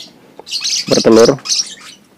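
Lovebirds in a wooden nest box where eggs have hatched give a short burst of close, loud, high chirps and squawks lasting about a second, with softer peeps around it.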